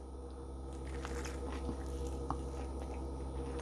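Zucchini balls dipped in sauce being bitten and chewed, soft squishy mouth sounds with a faint crunch, close and quiet over a steady low hum, no talking.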